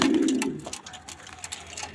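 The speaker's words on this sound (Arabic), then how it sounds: "دي كانت فرجة بسيطة على الحمام بتاعي وعلى طريقة أكله" Domestic pigeons in a loft giving a low cooing call at the start, then quieter shuffling and faint rustles, close and soft.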